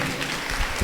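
A church congregation breaks into loud, close applause that builds briefly at the end, a dense wash of many hands clapping together after a prayer and testimony.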